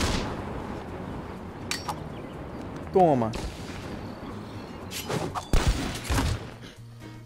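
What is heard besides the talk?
shotgun firing in a video game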